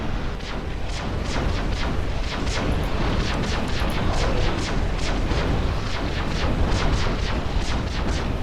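A missile turret in the futuristic tower defense game Defense Task Force fires in a steady rapid stream of loud launches and blasts that run the whole time.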